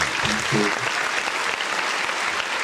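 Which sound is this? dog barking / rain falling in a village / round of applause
round of applause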